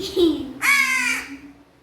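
A single crow caws loudly and close, one harsh drawn-out call after a brief lower sound.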